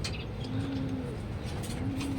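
Racing pigeon cooing at a club training session in Calauag, Quezon, two low soft coos repeating in a steady rhythm, close by, under a constant hiss of background noise and faint chirps.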